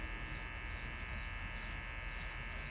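An electric hair clipper buzzes steadily and faintly during a first shave, one short unbroken hum with no voices.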